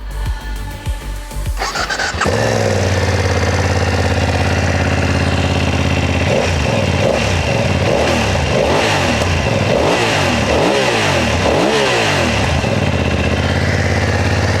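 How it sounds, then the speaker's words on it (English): A stock BMW F 900 XR twin-cylinder motorcycle engine cranks and fires up, settles into a loud idle, then revs repeatedly in rising and falling throttle blips, close by. "It is completely stock and this is a twin engine"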